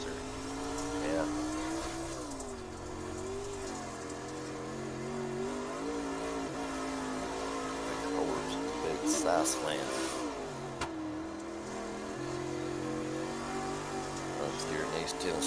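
Race cars running laps on a dirt racing track in East Tennessee, engines droning and revving steadily in the distance throughout, with someone talking over the noise.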